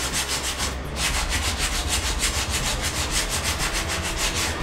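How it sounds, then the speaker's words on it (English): Rhythmic strokes of a sanding block with 80-grit paper worked over body filler on a car's dented wheel flare, a steady, close, loud rasping scrape repeating about five times a second with no talk. "I'm not sanding straight across the flare."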